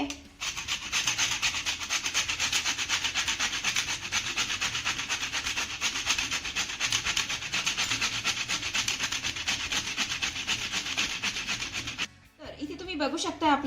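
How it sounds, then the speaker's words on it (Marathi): Coconut is grated by hand in a home kitchen. A loud, steady, rhythmic rasping of fast scraping strokes carries on close up for about twelve seconds, then stops abruptly. "कांदा आपला चिरून झाला की लगेचच मी खोबरं देखील किसून घेते"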